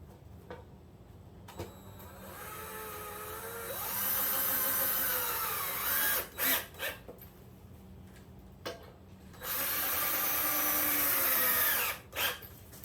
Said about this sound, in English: Now we switch over to the cordless drill.